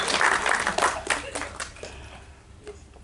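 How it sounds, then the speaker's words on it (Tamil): Applause from the crowd at a film music launch event for Kaaliyaattam, a burst of clapping that is strongest at the start and then thins out and fades toward the end. "இருந்தாலும் கைத்தட்டுங்கன்னு சொல்கிறேன்."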